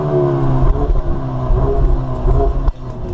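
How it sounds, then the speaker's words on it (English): A Ford Mustang EcoBoost four-cylinder engine idles close by with a steady low rumble and a faint tick, running without talk over it. "You just get the 4-cylinder kind of tick over"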